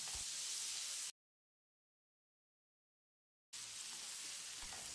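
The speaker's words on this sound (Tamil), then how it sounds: "வெங்காயத்தை கண்ணாடி பதத்துக்கு வதக்கிடலாம்." Finely chopped onion and cumin seeds sautéing in melted butter for vegetable pulao, with a steady close sizzle and hiss that cuts out completely midway and then resumes just as before.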